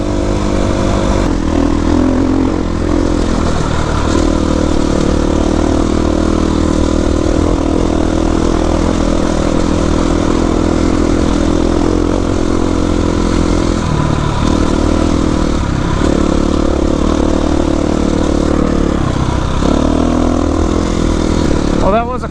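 Dirt bikes ride through the desert hills near Calico, a steady loud engine drone running throughout with dips and swells as the riders change throttle.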